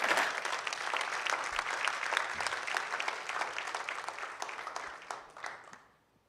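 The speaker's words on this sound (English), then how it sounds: "let's welcome her with warm applause" An audience bursts into warm, steady applause to welcome a featured artist at a church service, the dense clapping sustained for several seconds before fading out at the end.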